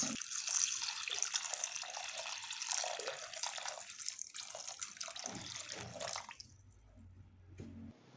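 Cut potatoes rinsed under a running kitchen tap: a steady splashing stream for about six seconds, then the flow stops and only faint handling sounds remain.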